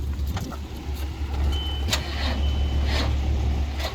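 A 5.9 Cummins diesel engine with a low battery cranks on a jump box, a steady low rumbling drone with scattered mechanical clicks and a faint whine over it, continuous and close throughout.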